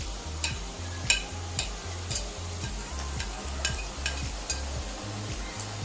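Diamond-cut dough snacks frying crisp in hot oil, a steady close sizzle and bubbling with a low rhythmic stirring pulse and periodic light clinks of a metal spoon against the pan.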